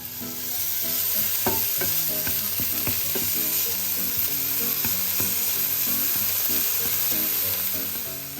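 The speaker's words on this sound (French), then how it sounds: "les lardons commencent à bien griller" Bacon lardons fry in a hot pan with a loud, constant sizzle and crackle, broken by occasional stirring clicks, with no talk over them.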